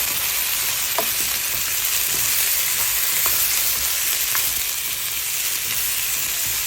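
Chicken adobo with potatoes frying in a pan, a steady close sizzle broken by a few soft scrapes and knocks as the food is stirred.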